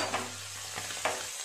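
Small chuno fish fry in hot oil with a soft, steady sizzle and a few brief bursts as pieces settle, close by and with no talk.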